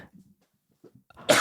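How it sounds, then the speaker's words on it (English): A single short, sharp cough bursts out loudly near the microphone at the end, after soft breathy throat sounds. "Oh, you coughed a hairball."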